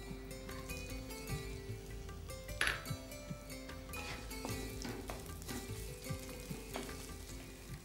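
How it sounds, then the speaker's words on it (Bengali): Chopped onion frying in about a quarter cup of hot oil, a dense continuous sizzle up close with repeated stirring scrapes and an occasional metallic clink against the pan. "তেলের মধ্যে আমি প্রথমে দেব পেঁয়াজ কুচি"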